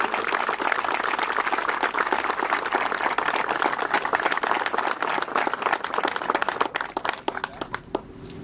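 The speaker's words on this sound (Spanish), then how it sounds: "Brindemos un fuerte aplauso hasta el cielo al poeta del pueblo." Crowd applause at a village fair (Feria de la Candelaria in Juliantla), steady dense clapping filling the clip before thinning out near the end.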